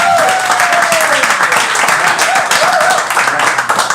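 Audience at an improv comedy show in St. Pete breaks into loud, steady clapping with scattered whoops and whistles, a dense crowd roar that holds for the full four seconds.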